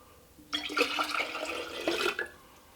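About a cup and a half of water is poured into a limoncello mixture, a close, sloshing, gurgling pour lasting roughly one and a half seconds before tapering off.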